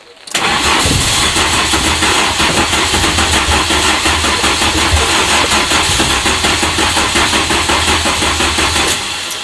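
A car engine cranks and catches at once, then settles into a loud, steady idle with a rough, pulsing note that runs for several seconds before easing off.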